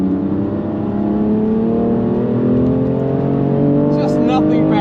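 A BMW M2 Competition accelerates away with a rising, droning engine note, loud and close throughout, its pitch climbing steadily over a few seconds.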